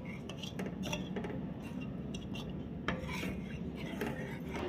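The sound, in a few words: stirring aliv (garden cress) seeds in milk with a spoon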